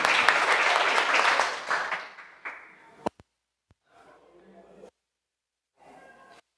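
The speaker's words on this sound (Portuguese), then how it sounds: "Uma salva de palmas para as duas." Applause from an audience at a talk fades out over about two seconds, followed by brief clicks and faint murmuring voices.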